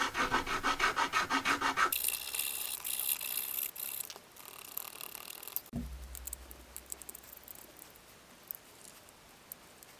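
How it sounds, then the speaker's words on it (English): A needle file and fine grit sandpaper smooth the edges of a 3D printed model, with rapid close rhythmic rasping strokes at first, then harsher scratchy rubbing and quieter intermittent scraping. "I hit them with a needle file and a hobby knife, and then I went in with some fine grit sandpaper to get a smooth edge"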